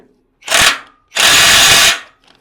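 DongCheng DCPB1218 cordless impact wrench with a 1/2-inch anvil, 1218 Nm: two loud, close bursts, a short one and then a longer hammering run of about a second, with silence between.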